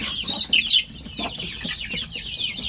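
Zampen native chickens clucking on a farm in the morning before feeding, several short bright calls overlapping close by, with no talk.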